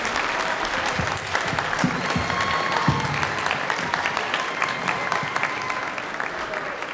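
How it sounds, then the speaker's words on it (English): Audience applause fills a room at a live improv comedy show, steady clapping that holds for about seven seconds with a few louder claps on top. "Round of applause for those teammates."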